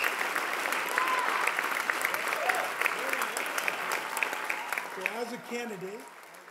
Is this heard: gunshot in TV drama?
no